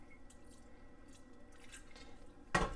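Water goes into a pan of smothered chuck steak and gravy, with soft, faint drips and squishes followed by one brief, louder splash near the end.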